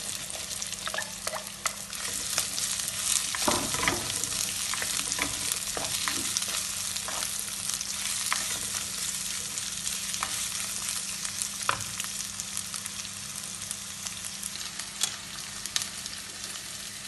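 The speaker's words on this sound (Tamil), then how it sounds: "இப்போ இதெல்லாம் வதங்கிட்டு நான் இதில் வெங்காயத்தை போடுறேன்." Onions fry in a pan for mutton curry with a continuous loud sizzle, while scattered clicks and scrapes from stirring recur throughout and no one speaks.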